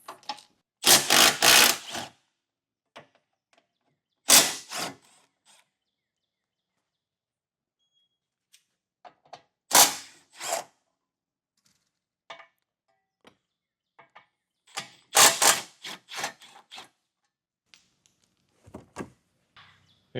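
A power tool whirs in short bursts as it removes the 13mm bolts holding up the bumper beam of a 2024 Volkswagen, with several separate loud spurts and quiet gaps and faint clicks between them.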